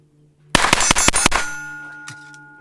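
Several quick metallic clangs in a tight burst as .22 pistol rounds from a S&W Performance Center PC22 Victory strike steel plate targets, ringing tones fading afterward, one more faint ping near the end.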